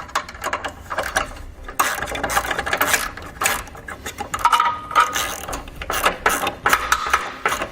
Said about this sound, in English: Take an 11mm socket and wrench,